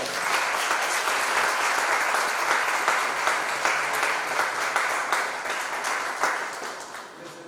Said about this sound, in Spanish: les damos un aplauso de agradecimiento por su presencia